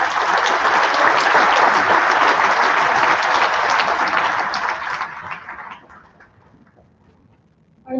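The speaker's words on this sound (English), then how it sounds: "please give these three another round of applause" An audience at an academic awards ceremony claps warmly for about five seconds, a dense, loud wash of applause that then thins out and fades to near silence.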